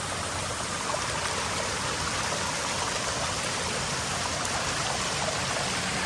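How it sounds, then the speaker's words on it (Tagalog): A river flows steadily at the Paraiso de June Quijote nature spot, a dense, continuous rushing of water that stays close and loud throughout, with no voices. "Yan, sa ilog."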